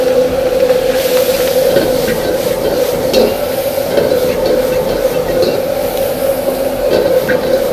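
Pork is stir-fried with chili powder in a wok over a powerful Chinese-style range burner. The burner roars with a steady hiss and hum, and irregular scrapes and clatters of the wok sound over it.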